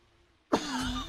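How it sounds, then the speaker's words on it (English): A single sharp cough bursts out after a quiet lull, followed by a short rasping throat sound close to the microphone, loud and alone. "I'm coughing"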